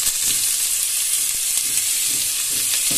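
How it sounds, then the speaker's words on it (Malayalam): Onions sautéing in a pan for red radish thoran, a loud, dense, steady sizzle and hiss with occasional soft stirring clicks and no talking. "നമുക്ക് സവാള എന്ന് വഴറ്റാൻ വേണ്ടിയിട്ട് സവാള ഇടാം."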